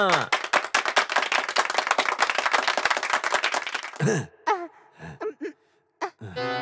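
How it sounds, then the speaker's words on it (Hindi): An audience bursts into quick, dense clapping for about four seconds, then the applause cuts off and a voice takes over with short spoken phrases. "तालियां।"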